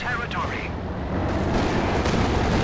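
Gunfire and explosions sound off in the Company of Heroes 2 strategy game, a dense mix of shots and booming blasts under steady commentary from a caster.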